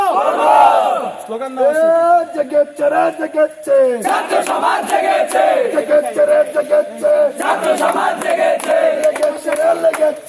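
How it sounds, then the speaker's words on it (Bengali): A protest march crowd of anti-discrimination students in Morelganj chants slogans against the Ansar force, a lead voice calling out and many voices answering in loud, rhythmic unison, close and continuous. "স্লোগান"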